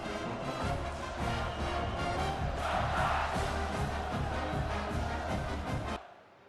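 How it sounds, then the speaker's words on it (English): A packed stadium crowd in the EA Sports College Football 26 video game roars in one full, unbroken wall of noise that stays steady and loud, then cuts off abruptly near the end. "This crowd, full throat, splitting the eardrums and letting them know it's going to be a long day."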